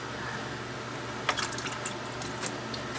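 Water rinsing over a PVC surface after scrubbing off paint scuffs, a soft steady trickle with a few faint drips and splashes, quiet and close.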